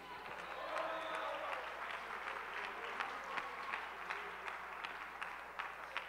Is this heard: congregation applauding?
yes